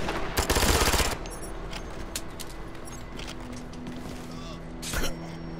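Submachine gun fire from the video game Ghost Recon: Future Soldier rattles in a quick automatic burst of about a second, followed by a short, quieter burst amid game sounds and talk.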